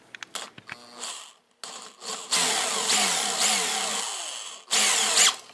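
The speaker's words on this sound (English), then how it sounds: "I'm going to take a larger drill bit and drill it down partway for our knot to be recessed in there." Power drill driving a large bit partway into plastic for a homemade pull handle, with a few short clicks and spurts at first, then a loud, steady grinding whir that dips briefly and surges again near the end.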